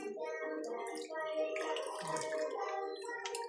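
Strong stream of water from a kitchen faucet running steadily, a continuous hiss and splash while voices talk over it.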